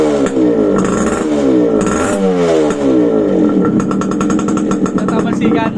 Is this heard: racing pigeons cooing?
no